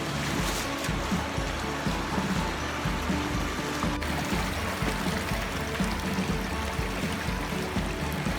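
Water of Sulfur Creek streaming past close by, a continuous broad rushing wash that stays steady and fairly loud throughout with no voices over it.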